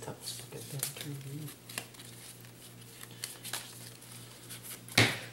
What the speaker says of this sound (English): Shuffle those hero cards.